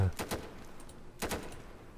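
Gunfire in the video game Insurgency: two short bursts of rapid shots, one near the start and another about a second later, moderately loud over a quiet background.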